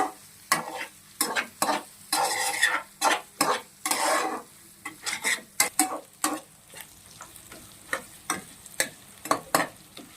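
Repeated scraping and stirring of chicken fry with drumstick leaves and curry leaves in a pan, a steady run of sharp spoon-on-metal strokes over a soft background sizzle, close and fairly loud.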